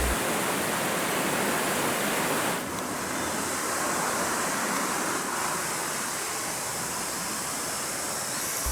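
Dense, continuous rushing water noise, loud and steady throughout, like a swollen stream flowing nearby; the Ichinohara River in Japan running high after rain.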